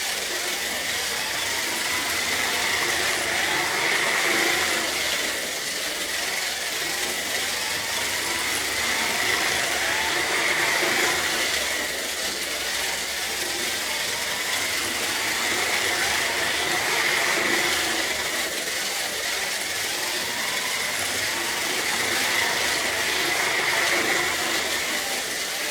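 Carrera slot cars, a Porsche and a Ferrari, race around the track with a continuous whirring electric-motor whine that swells and fades in regular laps, steady and fairly loud.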